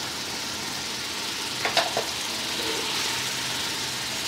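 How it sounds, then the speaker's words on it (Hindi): Capsicum and cabbage for egg fried rice fry in a pan with a soft, steady sizzle, broken midway by a few quick stirring scrapes. "और ये बंद गोभी है, इसको भी 1-2 मिनट ही फ्राई करना है।"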